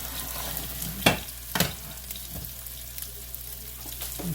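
Shredded cabbage sizzles and fries in a hot pan, broken by a few sharp scrapes of a utensil stirring it, with a steady low burner hum underneath and no talking.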